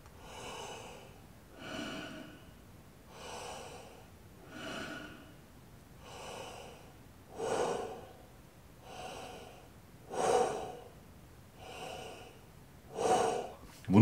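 Repeated deep breaths drawn and pushed through a hose as a breathing exercise for trumpet practice, about ten close, regular breath cycles growing louder toward the end, with no talking.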